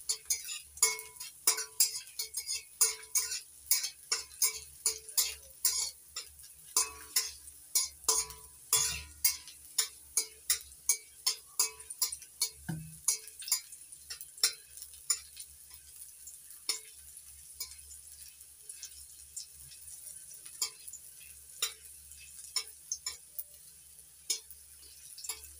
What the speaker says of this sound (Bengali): এবার কয়েক কোয়া রসুন ভেজে নিচ্ছি।